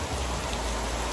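Rain falling steadily on a Jamaica vacation, a dense, even hiss of drops that stays loud and close for the whole short stretch, with no voices.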